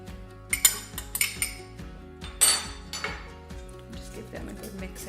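Metal spoon clinking and scraping against a bowl while chopped blueberries are stirred into spelt muffin batter, a few bright taps and scrapes spaced irregularly, fairly close and quiet, over a soft music bed.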